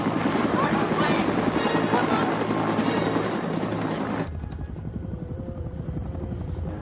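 Helicopter rotor and engine drone from a horror film, loud and continuous with a steady beating wash of noise, then dropping suddenly to a lower, more muffled hum partway through.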